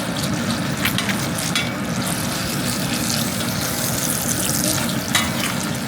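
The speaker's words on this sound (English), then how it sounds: "Let's see how easy the cast iron is to do eggs. Well, it has a lot of grease in it." Eggs fry in a greasy cast iron pan with a steady, dense sizzle and crackle that holds close and loud throughout, no voices over it.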